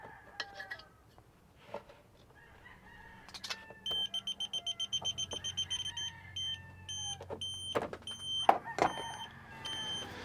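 A TOPTES PT199 R290 gas leak detector goes off with a rapid, evenly spaced run of high electronic beeps, followed by scattered shorter beeps and a few handling clicks.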